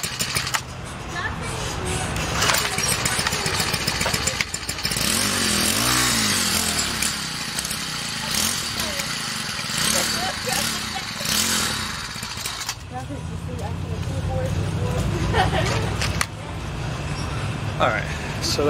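A Cub Cadet CC4175 lawn tractor with a suspected fuel delivery problem cranks and its engine starts, running loudly and unevenly with surges and dips, close by, while someone talks over it.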